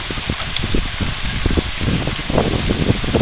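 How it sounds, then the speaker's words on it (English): Heavy rain pours down outdoors as a dense, steady hiss with rapid patter, loud and continuous for the whole stretch with no talking. "it's raining like a mother smurfer"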